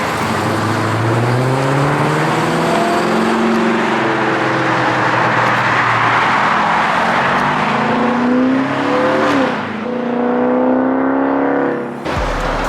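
A supercharged Dodge Charger Daytona accelerates hard through repeated pulls outside, the engine roaring loud and close with rising whine and gear-change dips before cutting off abruptly at the end.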